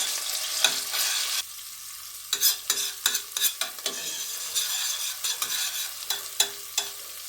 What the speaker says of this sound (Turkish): biber ve domates salçası karışımı olan salçamızı ilave ediyoruz. Güzelce yağımızda kavuruyoruz.